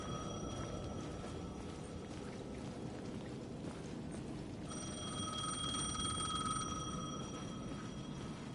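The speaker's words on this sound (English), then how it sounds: "The payphone at the edge of the plaza was ringing again." A payphone at the edge of a plaza rings with a steady electronic trill, growing louder and clearer partway through, over a continuous bed of outdoor noise.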